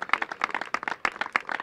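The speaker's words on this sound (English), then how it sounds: "So if you give them a round of applause" Scattered clapping from a small outdoor crowd at a community playground opening, honoring a construction company: uneven, fairly quiet individual claps in a brief burst.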